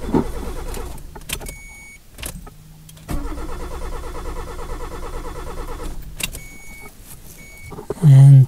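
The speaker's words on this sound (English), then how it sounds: "I can plug the rest of the cables and we can attempt to start the engine." An older car revived after sitting in a swamp cranks and starts in bursts, with repeated motor whirring and an engine catching, interrupted by pauses, heard close with no talking.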